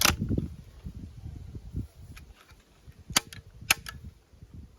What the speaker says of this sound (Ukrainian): Знову робимо імітацію пострілу